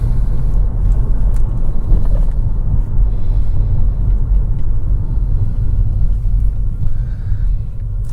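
Car driving through light morning traffic on 1st Street between East Los Angeles and downtown, heard from inside as a steady low engine and road rumble running throughout with no talk.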